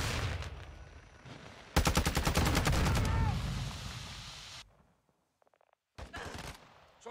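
Rapid bursts of automatic gunfire in a first-person shooter video game, a loud stuttering volley followed by a brief lull and another short burst.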